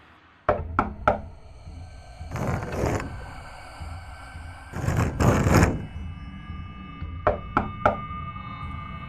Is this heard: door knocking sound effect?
yes